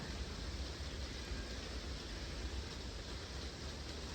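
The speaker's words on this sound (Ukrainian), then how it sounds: "Дощ мішає мені." Steady rain falls outside a greenhouse, a dense, even wash of noise that holds without letup for the whole stretch, with no voices over it.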